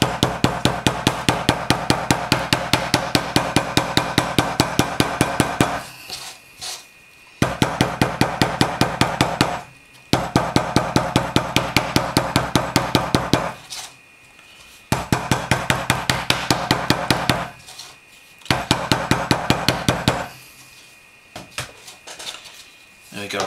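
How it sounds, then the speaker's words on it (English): A rubber mallet taps down the glued welt of a leather knife sheath in rapid, evenly spaced bursts of close, sharp knocks, separated by short pauses. "I'm just going to tap this down as well to make sure this sticks nice and firmly using the rubber mallet"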